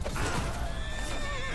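A horse in Mount & Blade II: Bannerlord gives a loud, wavering whinny up close, with hooves clopping beneath it.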